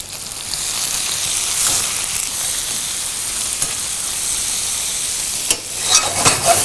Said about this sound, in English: a couple of leaves of basil here so they start frying